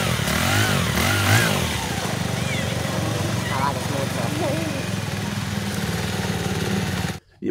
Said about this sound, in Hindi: बाइक के इंजन की ये आवाज़ है टाइमिंग गोट और टाइमिंग चेन चेंज करने के बाद